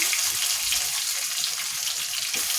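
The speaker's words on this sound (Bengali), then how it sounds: "দিয়ে দিল এখানে কিছু রসুন কুচি।" Chopped garlic sizzles steadily in hot oil in a pan while beef and yardlong bean bhaji is being prepared, a close, continuous crackling fry with no talking.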